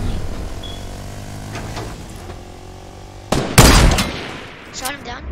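Video game gunfire during a multiplayer shootout: a loud burst of shots midway, then scattered quieter shots over a steady low hum of game noise.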